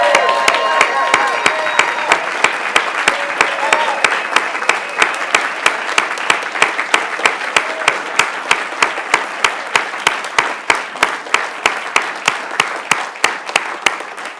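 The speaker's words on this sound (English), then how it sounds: "I think we need one more round of applause for Dr. Poussaint and all he's done." Audience applauding at a celebration event, loud dense clapping that gradually gives way to a few regular rhythmic claps standing out clearly toward the end.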